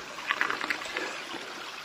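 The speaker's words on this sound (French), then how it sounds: "Regardez ce petit ruisseau" A small stream trickles and gurgles near a cyclist pushing a bike along a path, with a few brief brighter splashes early on, then a steady soft babble.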